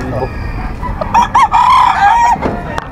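A gray early bird gamefowl rooster crows loudly and close at a busy pet market, one drawn-out cock-a-doodle-doo over low background murmur and clucking.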